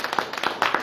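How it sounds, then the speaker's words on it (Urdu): A church congregation claps in a brief burst of applause after the preacher calls for it during a Palm Sunday service, several quick, close hand claps in under a second. "آئے اس کے لیے زوردار تالیاں"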